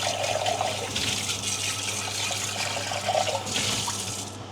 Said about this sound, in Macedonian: На ова му фрламе на вода.